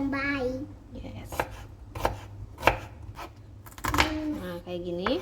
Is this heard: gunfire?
no